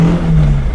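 Modified engine in a 1960s Alfa Romeo 1750 GTV revving up close, a steady loud drone with a strong low hum held throughout before easing slightly near the end.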